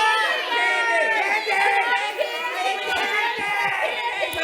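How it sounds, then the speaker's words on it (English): A school audience of children cheers and shouts together in a dense, steady roar, many young voices overlapping at close range for several seconds. "Start cheering now."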